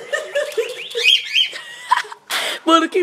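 A small caged bird sings in short, high chirping phrases close by, mixed with people talking and brief giggling around it.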